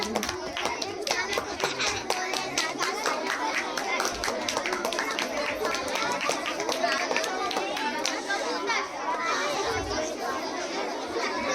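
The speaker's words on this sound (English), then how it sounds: "Yes sir, clap for sir." A room of schoolchildren claps loudly and raggedly at a school event, with lively chatter and shouts mixed into the continuous clapping throughout.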